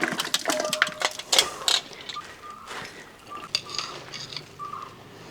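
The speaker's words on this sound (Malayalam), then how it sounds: "കഴുകി വൃത്തിയാക്കി വെച്ചിരിക്കുന്ന ഈ ചിക്കൻ നമ്മൾ ചെമ്പിലോട്ട് ഇട്ട് കൊടുക്കുകയാണ്." Washed raw chicken tumbles into a copper pot for a Kerala-style recipe, with clattering, clinking metal and wet thuds up close, busiest early on and easing into softer scattered knocks.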